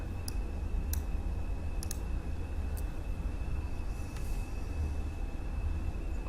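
A computer mouse clicks several times at irregular intervals while a spreadsheet cost variance formula is built, with crisp, light, close ticks over a steady background hiss and hum.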